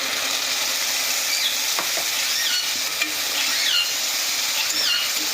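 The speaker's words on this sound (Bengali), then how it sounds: "এবার বেটে রাখা মশলাটা দিয়ে দিচ্ছি।" Ground spice paste is stirred into fried onions in oil for a young jackfruit curry: a steady sizzle under scraping stirs and soft utensil knocks, with faint high chirps in the background.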